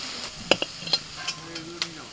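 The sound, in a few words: stirring food in a kadai (wok) while cooking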